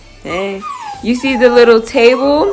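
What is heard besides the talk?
dog whimpering and barking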